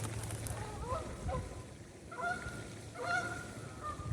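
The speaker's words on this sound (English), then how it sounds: "And random Canadian geese just flew in." Canada geese honk as they fly in, several calls overlapping at a middle distance outdoors, fairly faint against a soft background rumble.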